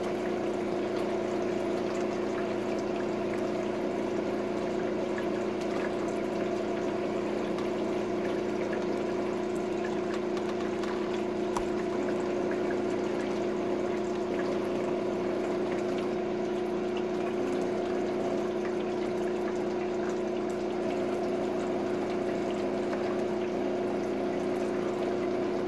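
A pump drives a continuous stream of water through a sluice box, producing a steady humming drone and an even rush of flowing water with no talking.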